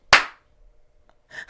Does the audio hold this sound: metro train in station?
no